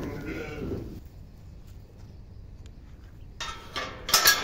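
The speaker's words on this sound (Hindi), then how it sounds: "ये डरती बहुत हैं जी भेड़े ये।" Sheep inside a farm shed giving a loud bleat at the start, then quieter rustling and shuffling, with sharper bursts of noise near the end.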